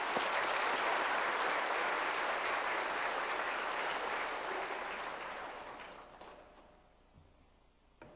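A church congregation at a 2017 autumn revival service claps warmly to welcome the pastor, a broad wash of applause that gradually thins and fades toward the end.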